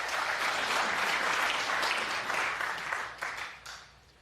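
Crowd at a snooker world championship final applauds in a steady, dense burst for about three seconds, then the clapping thins and fades out.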